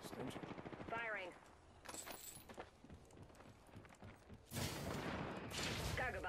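Gunfire in Apex Legends, several rapid bursts of shots in quick sequence, broken by short pauses, under game effects and character voices.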